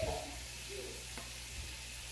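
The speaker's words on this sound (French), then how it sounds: "maintenant je mélange" A mixture for Lebanese beef keftas is stirred in a pan with a soft, continuous scraping and faint sizzling texture, close and steady without any talking.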